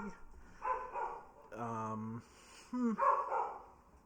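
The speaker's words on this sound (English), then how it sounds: "And we had the dog barking." A dog barks and whines in a few short bursts near the microphone, with a voice talking quietly around the barks.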